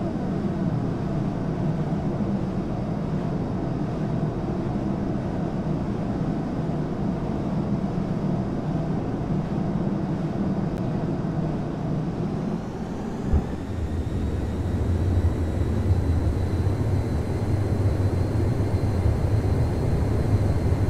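Jet on a carrier catapult in Microsoft Flight Simulator X, a steady engine roar at full military power that abruptly surges and shifts pitch as the launch fires partway through, then continues as a louder sustained whoosh.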